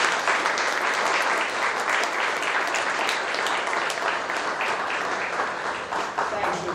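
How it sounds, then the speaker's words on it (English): A dense, sustained round of audience applause at a book release event, loud and continuous throughout without any break. "A loud round of applause for them."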